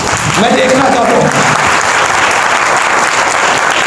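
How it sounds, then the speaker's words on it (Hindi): A congregation at a church sermon claps on the preacher's request. Loud, dense applause runs throughout, with a brief voice audible early on beneath the clapping. "जरा तालियां बजाएं"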